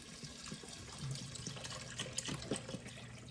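Bone broth is poured slowly into a pan on a stovetop over medium heat, a soft continuous trickle of liquid with faint splashes, quiet and close.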